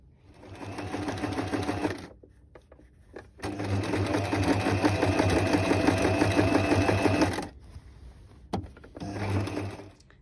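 A sewing machine stitches a quilted jacket's lining to the outer jacket along the top edge, running in three bursts of loud close rapid mechanical whirring, the longest about four seconds, with brief pauses between.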